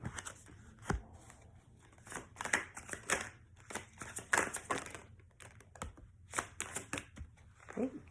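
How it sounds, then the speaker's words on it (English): Tarot cards shuffled by hand, a close series of quick papery riffles and snaps in uneven bursts, fairly soft, with no one talking. "Since I have 4 cards, I'm going to pull 4."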